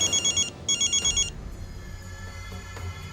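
A telephone rings in two bursts of rapid trilling electronic bells indoors, loud and alone, followed by a quieter room with faint shuffling noises.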